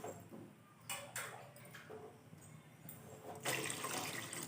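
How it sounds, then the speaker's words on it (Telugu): Water pours into rice flour in a home kitchen, two glasses added as batter is prepared, a close, steady splashing stream that swells loudest near the end with no talking. "ఇప్పుడు వాటర్ వేసుకుందాం."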